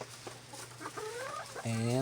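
Chickens inside a coop clucking nearby, a few short clucks followed by a louder drawn-out squawk at the end.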